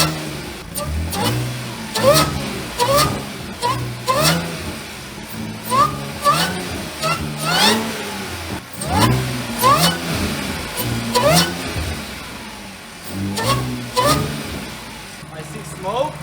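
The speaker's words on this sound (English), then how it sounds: "I wanna hear this supercharger and I wanna hear this exhaust" A fire-damaged supercharged Audi S4 engine revs repeatedly through its exhaust in short, loud bursts with rising and falling pitch, while people talk close by over the engine.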